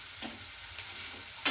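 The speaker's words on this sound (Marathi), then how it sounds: "कांदा लवकर तळण्यासाठी त्याच्यामध्ये थोडंसं मीठ टाकायचं. लवकर कांदा तळला जातो." Onions salted and frying in a pan for a chilli bhaji recipe give a quiet, steady sizzle, broken by a few soft scrapes of stirring near the start and a sharper clatter at the end.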